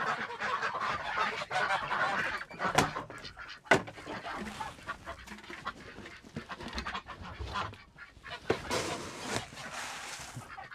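A flock of farm ducks quacking and honking nearby, with overlapping calls rising and falling alongside soft splashing and shuffling.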